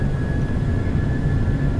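Boeing 737-800 jet engines run at takeoff power in a flight simulator, a loud, steady, broad roar with a thin constant whine riding on top and no voices over it.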